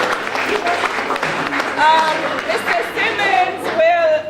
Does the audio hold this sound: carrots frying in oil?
no